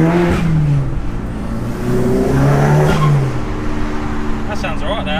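A Mini Cooper engine revs up and holds a droning pitch nearby, rising and falling while people talk over it.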